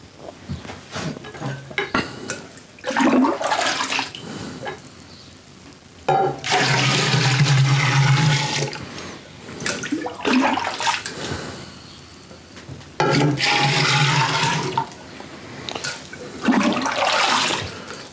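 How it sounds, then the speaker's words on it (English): Water pours into a container being filled to the 6-gallon mark for rum mash, rushing in several strong bursts with quieter pauses and clinks of the vessel between them. "let's finish filling this up to about our 6-gallon mark."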